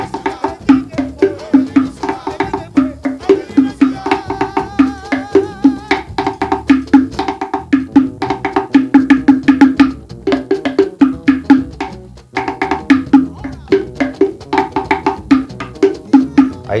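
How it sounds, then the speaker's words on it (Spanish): A wooden slit drum plays an Afro-Peruvian rhythm: bright, pitched strikes on a few tuned tongues form a repeating, syncopated pattern, close and clear with a brief pause near the end. "Incorporando a un patrón rítmico afroperuano, esto suena así."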